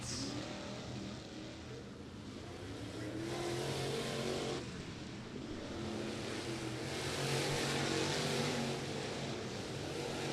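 Race cars of the American All-Star Series run hot laps around the Lake Cumberland dirt speedway, a constant distant engine drone that swells and fades as the field circles the track.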